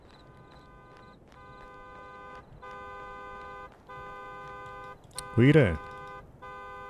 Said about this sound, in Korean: 일단은 손전등을 집어들고 차량 경보 해제하러 가자.